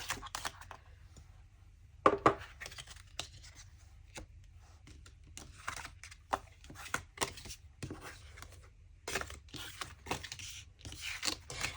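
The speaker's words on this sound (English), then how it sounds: "I'm going to pack these cards away while I talk to you" Tarot cards are shuffled, tapped and packed away close up, giving a string of soft papery rustles, flicks and light clicks of uneven rhythm, one sharper snap among them.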